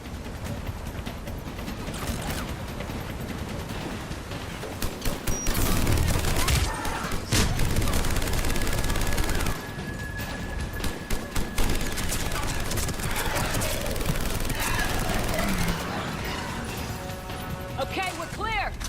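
A Mass Effect 3 firefight, with dense, repeated bursts of gunfire and impacts that swell and fade over a long stretch, mixed with battle effects and voices talking between the volleys.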